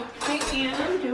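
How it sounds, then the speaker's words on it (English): Dishes being washed by hand, with plates, pots and cutlery clinking and knocking together up close in a steady run of clatter. "I'm doing dishes."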